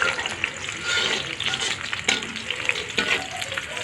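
Onions fry lightly in a pan with a steady, bright hiss and crackle, stirred now and then, close and continuous with no voices.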